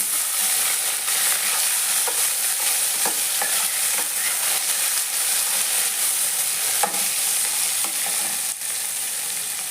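Tomatoes frying with kalonji (nigella seeds) in oil in a pan give a steady, loud sizzle throughout, with occasional clicks of stirring and no talk.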